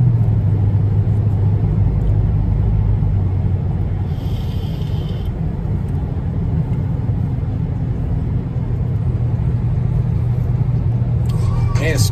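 Steady low road rumble of a car cruising smoothly at even speed, close and continuous, with a faint hum throughout and people chatting over it.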